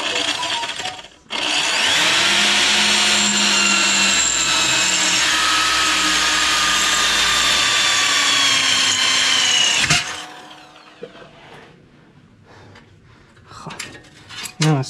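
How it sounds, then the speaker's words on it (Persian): An electric power drill boring a hole while building a homemade electric can crusher, running loud and steady for about nine seconds before cutting off, followed by quieter clatter and handling noises. "سوراخ میزنیم."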